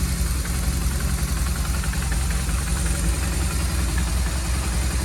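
A 2009 BMW R1200RT-P police motorcycle, just fitted with a new clutch, idles steadily up close, its low even thrum and mechanical rattle running loud and constant with no speech.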